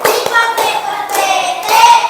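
Rhythmic hand clapping in a children's chili clapping game, several sharp claps at steady intervals over a bright, busy background of voices.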